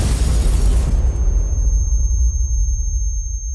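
A loud, heavy explosion in a war-film trailer booms at once and then rumbles down into a long, deep fading tail.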